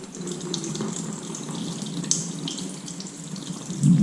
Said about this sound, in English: and then we're gonna have to pour all this water out.